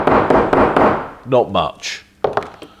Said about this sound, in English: Let's see what the hammer does.